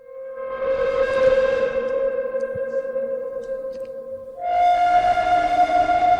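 A Heavyocity Gravity synth patch sustains a reverberant tone with added distortion, swelling in, then jumping to a higher, brighter and grittier note partway through, loud and alone.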